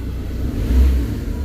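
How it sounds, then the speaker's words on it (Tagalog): A Ford Ranger 3.2 engine that is down on power and vibrating is revved, giving a loud, close, low rumbling engine note that swells briefly mid-clip and then settles. "Kita mo yung response ng makina"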